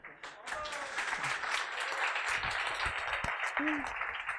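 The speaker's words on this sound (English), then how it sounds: "Please, an applause for him." An audience applauds a conference speaker at a DrupalCamp talk, a steady patter of clapping across the room for several seconds, fairly faint and even.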